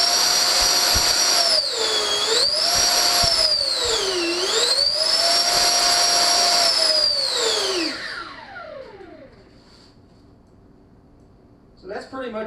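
An electric ducted fan on an RC F-16 Freewing V2 jet whines loudly and steadily, its pitch dipping and rising twice as the throttle eases, then spooling down and fading into near silence.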